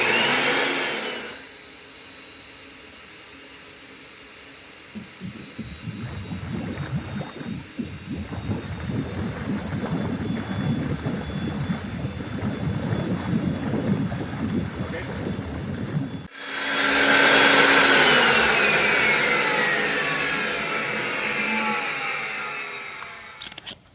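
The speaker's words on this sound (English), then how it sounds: "The blower." Pool blower used to blow out the lines while winterizing a swimming pool starts after a quiet stretch, a steady loud rushing roar that grows even louder and harsher partway through.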